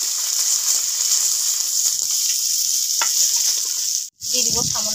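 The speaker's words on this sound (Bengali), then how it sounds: "সেই তেলে দিয়ে দিব ফুলকপি" Cauliflower florets sizzle steadily in hot oil in a pan, a continuous close frying hiss with small pops, cut by a brief silence near the end before scraping and stirring sounds return.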